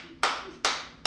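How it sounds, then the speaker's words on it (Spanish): Three slow, deliberate hand claps, sharp and close, evenly spaced about 0.4 seconds apart, each ringing briefly into a quiet room. "permítame aplaudirlo"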